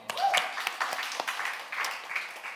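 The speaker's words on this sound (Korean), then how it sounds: "박수" A short round of audience clapping at an indoor talk, scattered hand claps building quickly and then thinning out over a couple of seconds, fairly close and moderately loud.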